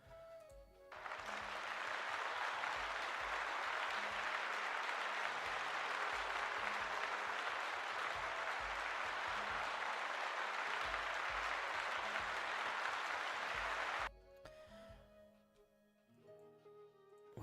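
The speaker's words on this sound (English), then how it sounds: "Let's give Gord a round of applause, friends." Sustained applause from an audience, a dense, even wash of clapping lasting about thirteen seconds before cutting off abruptly, leaving a quiet tail.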